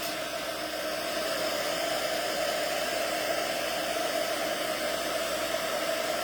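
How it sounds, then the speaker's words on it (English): A hair dryer blows steadily and loudly throughout, a constant close whoosh drying paint on a decorated Easter egg, with no talk over it. "I'm not going to blow dry directly onto my paint"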